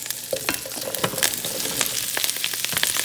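Oil sizzling in a frying pan on a home stove, a close, bright crackle with irregular pops and spatters running steadily throughout, with no talking.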